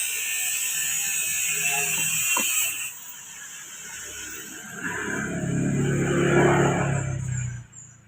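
A ratcheting crimping tool clicks and squeezes down on a female socket pin during wiring work for a Yamaha Mio Sporty fullwave conversion: a brief click, then a longer grinding press, close and moderately loud over steady background hiss.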